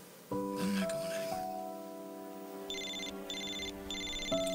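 A telephone rings indoors, a repeating electronic ringtone pattern heard close and clear over a quiet room, continuing for several seconds.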